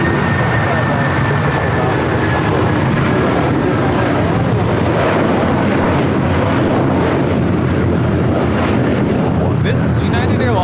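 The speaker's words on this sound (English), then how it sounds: "This is United Airlines 1950 taking off to Newark on the 757-200" United Airlines Boeing 757-200 taking off for Newark, a loud continuous jet engine roar that swells and rumbles steadily throughout, with a faint high whine and voices talking underneath.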